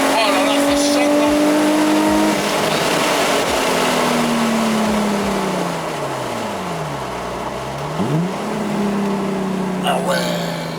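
A right-hand-drive Nissan 350Z running on ethanol revs hard with rising and falling engine pitch, including a sweeping dip and climb, loud and close, with people talking over it.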